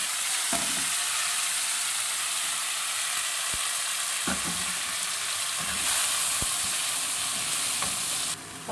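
Onion and tomatoes frying in a pan, a loud continuous close sizzle broken by occasional soft clacks of a utensil stirring, with no talking.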